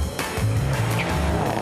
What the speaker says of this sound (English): Wheels spin, wheels spin.